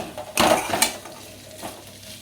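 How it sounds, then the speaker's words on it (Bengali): Potatoes frying in a generous amount of oil with poppy seeds sprinkled over them, heard as a couple of brief scraping, stirring bursts with a faint sizzle underneath. "পোস্ত ছিটিয়ে দিয়েছি, বেশি করে একটু তেল দিয়ে একটু আলু ভাজা করছি।"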